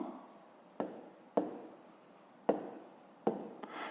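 A pen scratches across paper while working a fifth-grade math sum, making four distinct strokes spaced about a second apart, each a sharp onset trailing off, close and quiet.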